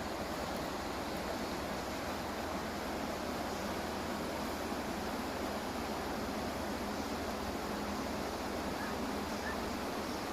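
Waterfall pouring in a natural setting, a dense, unbroken roar of falling water that stays loud and constant, with no talking.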